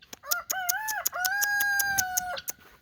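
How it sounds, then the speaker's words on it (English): A homestead rooster gives one long, full crow close by, rising and then held steady for over a second, with sharp clicking noises ticking through it. "Come on, rooster."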